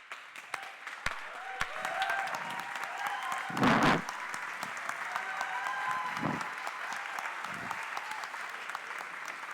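An audience at a Cambridge Union debate applauds steadily, a dense patter of clapping at moderate distance, with a brief louder burst of cheering partway through.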